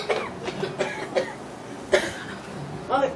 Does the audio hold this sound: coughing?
yes